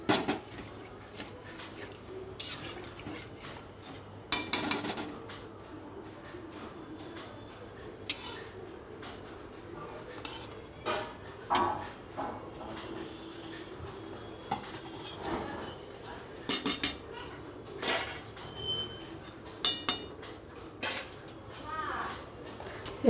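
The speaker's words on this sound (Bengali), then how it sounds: "জল দেওয়ার পর একটু নাড়াচাড়া করে এবার আমি এটা ঢেকে রাখবো ফুটে ওঠার জন্য।" Cooking pot being stirred after adding water, then covered with its lid, in a Bengali home kitchen; scattered scraping and clinking knocks of utensil and lid against the pot over steady background noise, with a voice talking at times.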